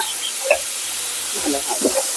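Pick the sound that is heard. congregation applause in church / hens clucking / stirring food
stirring food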